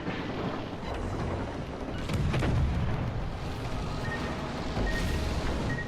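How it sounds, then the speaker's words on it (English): Torpedoes striking a warship in World of Warships: Legends, dull booming impacts with a brief rise in rumble over constant sea and wind noise. "we just got hit by torpedoes"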